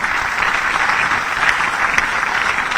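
An audience applauds steadily throughout at an award ceremony in Bhopal, a dense, continuous wash of clapping at fairly close range with no voices rising above it.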